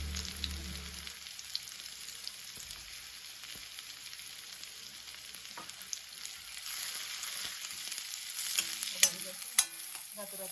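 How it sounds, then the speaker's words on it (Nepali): Chopped onion and garlic sizzle and crackle in hot oil at the start of a keema noodle dish, with stirring in the pan. The hiss grows busier and sharper near the end, and no one speaks. "तेल पनि टाकिसकेको छ। म राख्दैछु यसमा प्याज। यसमा राख्दैछु लसुन।"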